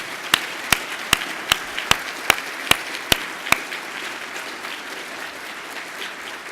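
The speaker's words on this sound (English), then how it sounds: "So can we please have a round of applause for Joe?" A sparse round of applause for Joe Bass from a conference audience, about nine distinct sharp claps spaced evenly over three seconds, then fading into quiet room tone.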